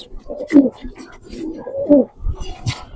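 Pigeons coo nearby at a pigeon farm in low, throaty bursts, two prominent calls a second or so apart, with some soft human voices mixed in.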